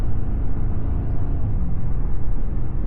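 Steady engine drone from a 2025 Chevy Silverado with the 2.7L turbo four-cylinder, a continuous whiny hum over low rumble heard from inside the truck while driving, with no talk.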